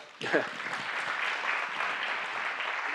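Audience applause at a Big Blue 2024 event on the future of flight, a sudden burst of dense clapping that starts sharply and holds steady and loud throughout, with a voice briefly audible near the start.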